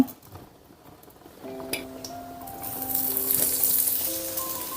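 Mustard seeds hit hot oil in a pan, a quiet start building into a rising crackling sizzle, with faint ringing tones from nearby and sharp pops scattered across it.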